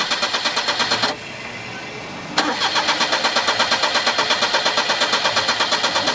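A 1986 Daihatsu Handy three-cylinder petrol car engine cranks rhythmically, pauses for about a second, then fires and settles into a steady, pulsing idle, recorded close up.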